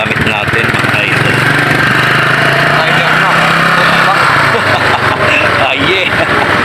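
A motorcycle engine runs with a loud, steady, rough drone close by, and voices talk over it now and then.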